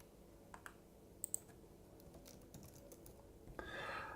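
Faint, sparse clicks of typing on a computer keyboard, a few isolated keystrokes spread out over quiet room tone, with a brief rise in background noise near the end.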